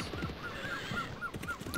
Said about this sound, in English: And listen to those seagulls.